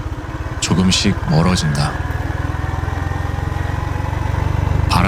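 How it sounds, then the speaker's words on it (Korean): A motorcycle starts and pulls away onto the road, its engine putting out a steady rhythmic putter throughout, with someone speaking briefly over it near the start. "그냥 헬멧을 쓰고 시동을 걸고 길 위에 나선다."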